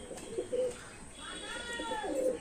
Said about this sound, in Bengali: একটা নোয়ার পায়রা আছে